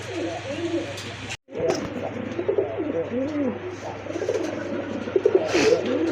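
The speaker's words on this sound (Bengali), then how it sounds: "মাশাআল্লাহ, একজোড়া লাল খাকি কবুতর দেখার মতো" A pair of red khaki pigeons cooing repeatedly in soft, rolling low calls close by, with a brief dropout early on and faint background noise.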